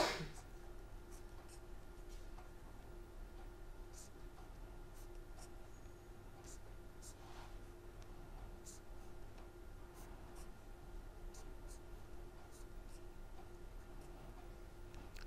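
Pen writing chemistry notes by hand, faint scratchy strokes and small ticks in an irregular rhythm over quiet background hum, no talk.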